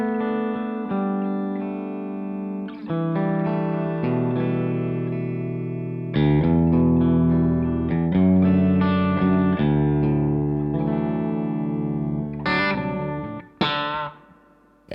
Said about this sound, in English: this is my Les Paul Standard 50s into my Revv D20.